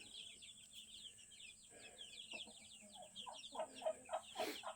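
Seven chickens in a pen cluck softly and steadily, with louder, sharper clucks and calls bunching together toward the end. No one speaks.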